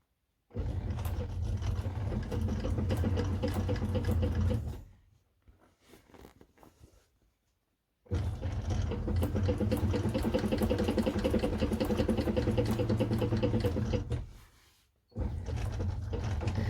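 A Cowboy CB6900 heavy-duty sewing machine stitches in two long, steady motor-driven runs, loud and close, separated by a short quiet gap with faint handling noise.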